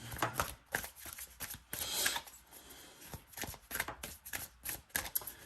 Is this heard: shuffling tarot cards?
yes